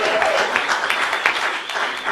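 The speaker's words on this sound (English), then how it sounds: "a round of applause" A crowd claps and cheers, a dense burst of applause filling the whole moment at full volume.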